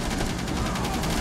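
Continuous hip-fired gunfire from a weapon in Rainbow Six Siege, a dense, unbroken burst of shots filling the moment at steady close range.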